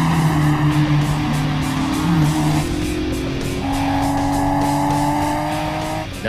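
Toyota AE86 and a rival car race through an anime mountain pass, their engines droning loud and close with shifting, overlapping tones that rise and fall as the cars change gears.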